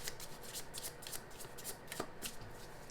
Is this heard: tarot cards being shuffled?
yes